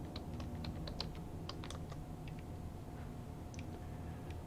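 Computer keyboard keys are typed in quick, light clicking runs with brief pauses, faint and close over a steady room hum.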